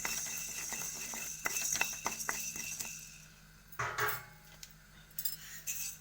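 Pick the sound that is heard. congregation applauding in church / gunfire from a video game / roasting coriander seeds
roasting coriander seeds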